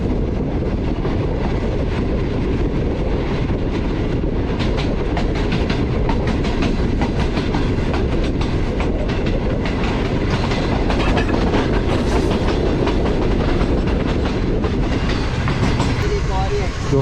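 A train rolls steadily at Lala Musa junction, with loud continuous rumble and rhythmic wheel clatter on the rails lasting the whole stretch, close and dense with no pauses.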